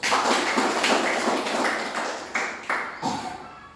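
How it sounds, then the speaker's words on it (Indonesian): A classroom of students clapping hands in a few short, rhythmic bursts, close and fairly loud, with the claps thinning out toward the end. "Tepuk tangan dulu."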